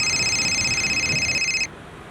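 A telephone rings for an incoming call with a steady, high electronic tone that holds for under two seconds and then stops, heard clearly over low background noise.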